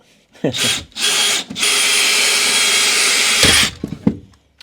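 A power drill whirs in short bursts while drilling a pilot hole during a shower install, then runs steadily for a few seconds before winding down, close by, with some clunks at the end.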